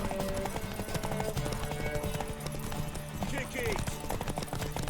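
Horse hooves clip-clop along in The Witcher 3: Wild Hunt, a steady rhythmic beat running under game music, with someone talking over it throughout.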